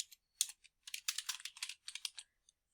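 Rapid keystrokes on a computer keyboard, close and crisp, coming in quick clustered bursts with brief pauses, no voice over them.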